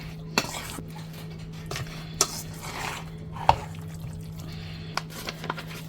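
Crack chicken with bacon, ranch and cheese being stirred in a dish, sparse wet clinks and scrapes of a utensil against the container, close and moderately quiet.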